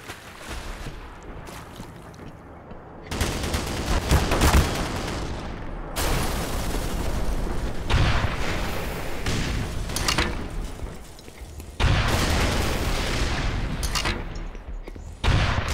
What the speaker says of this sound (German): Selbst der Panzer, der hier gegen eine Wand schießt